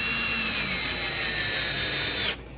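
Cordless power drill driving a screw through a hinge on the corner of a homemade quail cage, one steady close whir lasting a couple of seconds before stopping abruptly.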